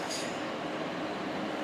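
A British Rail Class 450 electric multiple unit runs through Clapham Junction station, producing a steady, dense rumble and rush of wheels on track, with a brief high squeal at the start and no voices.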